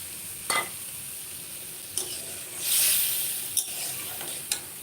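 Jackfruit curry masala sizzling in a pan as it is stirred, a close steady hiss with a surge of frying noise and sharp periodic taps of a spoon against the pan.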